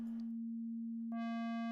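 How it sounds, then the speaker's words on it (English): A steady pure sine tone hums alone, then abruptly turns buzzy as a saturator's nonlinear distortion switches in, adding a stack of bright harmonics over the same pitch. "I'm going to apply a saturator to this sine wave you see here on the spectrum analyzer"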